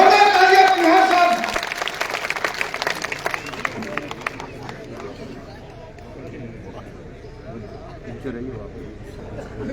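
A crowd at a political rally claps in a burst of applause that fades after a couple of seconds, while a voice keeps speaking over the noise.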